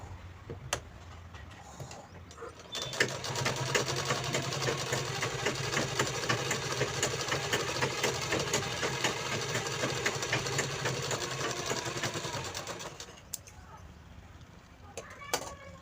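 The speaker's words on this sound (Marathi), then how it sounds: "तो कपडा असा वरतून स्टिच करायचा आहे" Sewing machine stitching along lining cloth, a fast, even mechanical whir with rapid ticking that starts after a few seconds, runs steadily for about ten seconds, then stops, heard up close with no speech.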